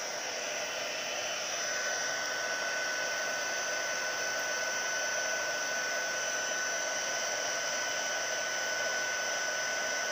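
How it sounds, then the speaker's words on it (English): Embossing powder is melted with a heat gun, a loud steady whirring blow of hot air that holds constant with a faint high whine, close by and uninterrupted. "So we're using our heat gun."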